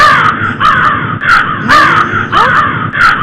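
A crow caws several times in quick succession, loud and close, in harsh repeated calls with short gaps between them.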